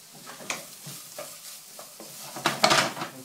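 A large chopped onion cooks in a pan for a Moroccan lamb tagine. Soft sizzling is broken by scattered utensil scrapes and stirring clatter, growing busier and louder near the end, with no voices.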